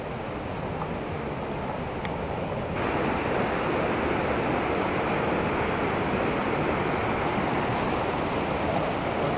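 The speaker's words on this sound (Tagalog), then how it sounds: "Medyo malakas yung agos." Strong river current rushing near Casaroro Falls, a steady, loud broadband roar of water that fills the whole clip and swells slightly after the first few seconds, with no voices over it.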